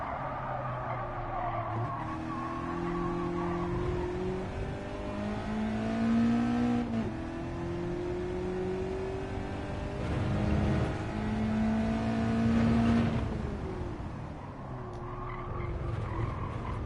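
Race cars in the video game Gran Turismo 7 rev and shift through gears with steady engine drone and tire squeal while cornering, loud and continuous across the lap.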